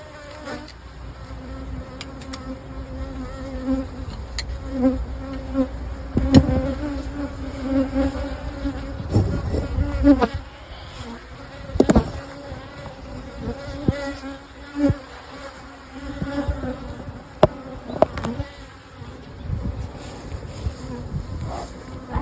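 Working honeybees buzzing around hives in the rain, a continuous layered drone of many wings with individual bees zipping close past now and then, no talk.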